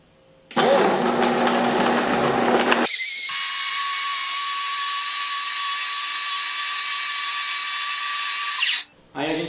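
A kitchen blender runs on homemade coconut milk, first a loud, rough churning burst, then a steady high whirring hum that continues for several seconds before cutting off.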